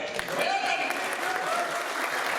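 Audience clapping at a political rally in Karnataka, a short burst of steady applause from a crowd, fairly close.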